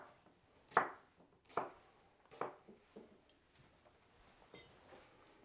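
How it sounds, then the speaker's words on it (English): Knife chops through vegetables on a cutting board for rainbow fried rice, several sharp separate strikes spaced almost a second apart, then lighter, quicker taps, close and crisp in a quiet small kitchen. "we're just chopping up all the veggies, guys, basically"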